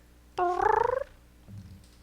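A pet cat lets out one loud, drawn-out meow with a faint purring pulse, followed by a quieter low murmur, close up in a quiet room.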